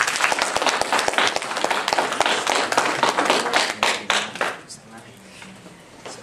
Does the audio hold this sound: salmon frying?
no